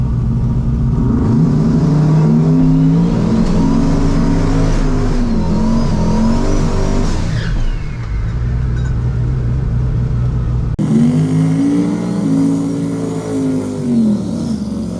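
Race car engine revving hard on a test pass, a loud continuous roar that rises and falls through gear changes, briefly easing off before climbing again, close and dominant throughout.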